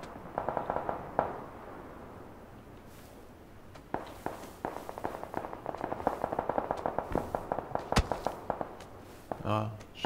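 Gunfire in the shooter PUBG, a dense run of sharp cracks and rapid bursts, some close and some distant, going on through most of the stretch with a voice talking over it.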